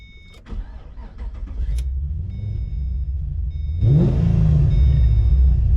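A Pontiac G8 starts off with a low rumble that builds, then the engine revs hard and accelerates with a deep, loud roar; a brief whir like a power window is heard early, with no talking.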